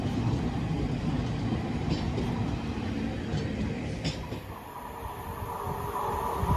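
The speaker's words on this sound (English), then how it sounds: "I have another freight train coming down" A GBRF freight train on an engineering movement rolls past at Kidsgrove station, a steady loud rumble of wagons and wheels, with a brief squeal partway through.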